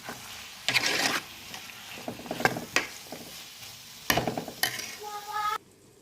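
A spoon stirs drumstick pieces, onion, tomato and chilli powder in a pan, giving several bursts of scraping and soft sizzling with small clinks, close and moderately loud, pausing between strokes.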